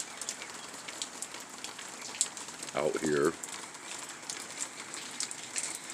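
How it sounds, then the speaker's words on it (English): Steady rain patters down outdoors in a dense, even hiss throughout, while someone speaks briefly in the middle. "it did not take too long before the rain started coming down"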